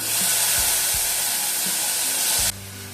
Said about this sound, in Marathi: ह्याच कढईमध्ये टोमॅटो टाकून घेऊया.